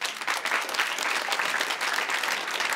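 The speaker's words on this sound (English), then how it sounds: "If you have a teenager, applaud." A comedy club audience of parents with teenagers breaks into sustained applause, a steady dense wash of clapping that holds at even volume throughout with no voices standing out.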